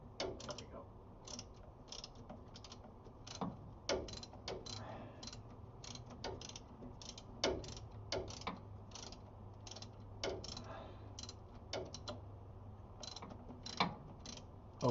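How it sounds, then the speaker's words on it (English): A hand wrench ratchets while tightening bolts on a starter during an alternator replacement on a Dodge Coronet, giving irregular bursts of close, sharp clicking with brief pauses between strokes. "I'm going to get the wrench up in here. All right, and we're going to tighten these bolts down."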